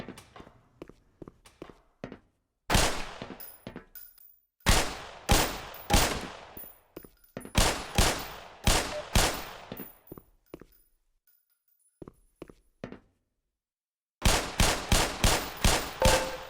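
Pistol gunshots fired at shooting-range targets in the Black Mesa hazard course, loud close cracks in several rhythmic volleys of roughly seven shots each, separated by quiet pauses with faint clicks and footsteps.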